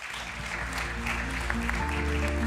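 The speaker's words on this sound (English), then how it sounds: "please, a big round of applause to our panelists" Audience applause for the panelists at the GPAI Summit 2024, a steady dense wash of clapping filling the hall, with music or tonal sound rising beneath it toward the end.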